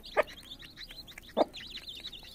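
A mother hen gives two short, louder clucks about a second apart while her fourteen chicks keep up a continuous thin, high peeping around her, close by.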